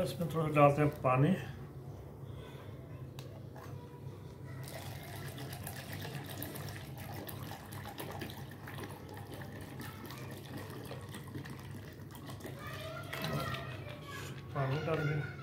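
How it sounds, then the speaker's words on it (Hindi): Water is poured into a sattu drink already mixed and holding ice cubes, a soft, steady trickle of liquid running for several seconds, close by, with brief speech at the start and end. "इसमें थोड़ा डालते हैं पानी।"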